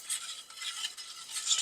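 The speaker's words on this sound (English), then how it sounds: "we're going to let it simmer and we're going to whisk it all together" Melting dulce de leche simmers on low heat while a whisk swishes through it in soft, quick strokes.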